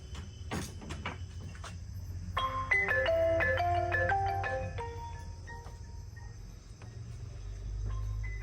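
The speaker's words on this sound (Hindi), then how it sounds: "फोन के आवाज आबै छै" A mobile phone ringtone plays a short, repeating electronic melody at moderate volume over a quiet, steady background hum.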